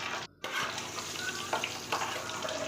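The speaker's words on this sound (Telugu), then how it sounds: "నేను ఎగ్స్ ఫ్రై చేస్తాను అండ్ ఇక్కడ ఫ్రై చేస్తున్నా" Eggs frying in hot oil with turmeric, a steady close sizzle with brief stirring scrapes and a short silent gap near the start, no talking.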